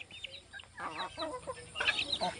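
Young chickens cluck and chirp in soft, rapid bursts while being fed, close by and fairly quiet, with no talk.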